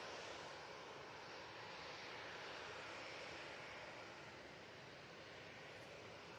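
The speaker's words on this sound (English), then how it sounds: "Off to Corfu with this A320-200" An Airbus A320-200 jet at Manchester Airport gives off a steady, broad roar, distant and faint, holding an even level the whole time with no voices.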